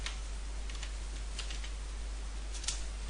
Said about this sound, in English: typing the command